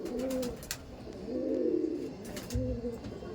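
Madras pigeons, a male and female pair, coo in low rolling bursts, three or so phrases close by, with faint clicks around them.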